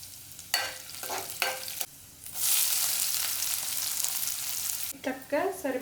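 Cumin seeds, curry leaves and green chillies hit hot oil in a pan for leftover-chapati upma, breaking into a loud, steady close-up sizzle after a few utensil clinks, with a voice briefly at the end.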